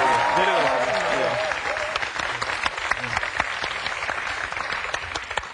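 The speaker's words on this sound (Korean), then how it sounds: "박수 한번 주세요." A talk-show studio audience applauds loudly with dense clapping, led by a speaking voice at the start before the clapping carries on alone.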